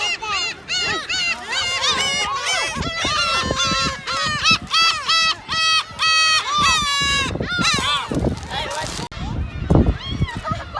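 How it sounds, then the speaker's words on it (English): A dense flock of seabirds on an island near Hachinoe, Aomori, calls loudly and constantly, overlapping honking and mewing cries from many birds close by, with a busier burst of calls near the end. "Birds are accustomed to people, so they will quickly approach you."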